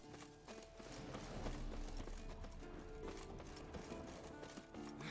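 A warhorse in The Witcher 3 video game moves with a steady, rapid clip-clop of hooves mixed with rattling tack and game ambience. The hoofbeats are continuous and fairly quiet, and nobody speaks.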